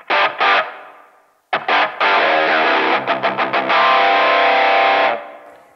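A distorted guitar run through a radio/phone-style filter on a Line 6 Helix, with EQ placed before the reverb: a narrow, midrange-heavy tone of short chopped chords and then a long sustained strum that rings out into a reverb tail.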